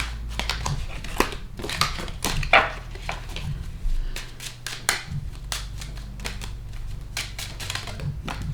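Kipper fortune-telling cards slip and fall out of a small deck, giving a run of light, rapid papery clicks and flutters, close and fairly quiet, with no talking.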